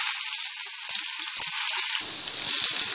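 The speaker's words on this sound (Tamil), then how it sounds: "எண்ணெய் காஞ்ச உடனே இந்த வடகத்தை போட்டுடுவோம்" Vadagam frying in hot sesame oil for egg kulambu: a loud, continuous bright sizzle that shifts into a rougher, crackling fry partway through, up close with no talking.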